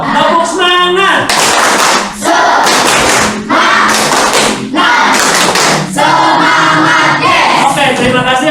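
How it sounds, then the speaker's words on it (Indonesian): Fifth-grade classroom students perform a loud, rhythmic spirit clap in unison, with repeated bursts of clapping separated by short pauses, together with group shouting or chanting. "Tepuk semangat."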